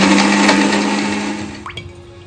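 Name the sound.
mixer grinder blending raisins, yogurt and garam masala paste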